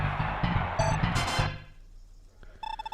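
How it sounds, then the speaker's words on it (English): A phone notification chime, a short bright two-tone alert heard near the end after a burst of game music, clear but brief. "That was my notification."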